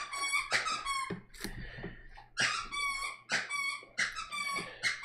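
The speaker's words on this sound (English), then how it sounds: "That's a happy dog." A happy dog whines and squeaks in repeated high, wavering bursts, some sustained and some short, close and fairly clear against a quiet indoor background with a faint steady hum.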